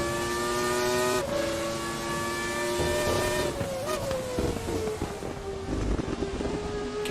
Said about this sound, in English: Hear a different tone of Gerasimos's engine.